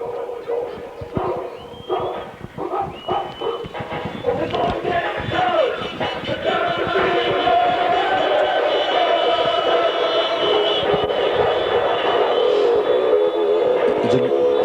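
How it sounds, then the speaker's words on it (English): Big crowd noise at a 1986 PLFL Australian football grand final between Bostons and Tasmans, loud continuous cheering and roaring that swells and holds steady, with a commentator talking over it early on. "It's a great crowd here today, and everyone's at the right pitch, fever pitch for a grand final."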